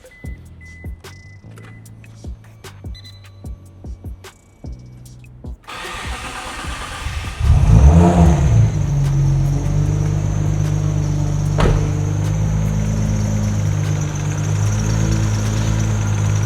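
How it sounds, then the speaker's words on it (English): A Mitsubishi GTO fitted with a big single turbo cranks and fires, its engine catching with a loud rise before settling into a steady, rough idle that holds close and strong. "I will start it so you can hear the sound of the car at least."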